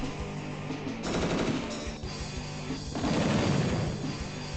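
Rapid bursts of gunfire from a tank attack in the Advance Wars: Dual Strike video game, two loud rattling volleys with a brief lull between them, close and dense with no talk.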